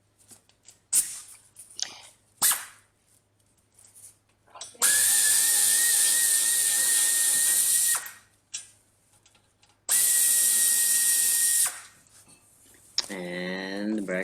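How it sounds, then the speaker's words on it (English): A power tool loosens brake caliper bracket bolts on a 2002-2010 Toyota Corolla, with two long steady whirring runs of a few seconds each, broken up by clicks, clanks and handling noises, close. "It's a good idea to have a long, extra long ratcheting tools, so you'll put less effort on loosening bolts."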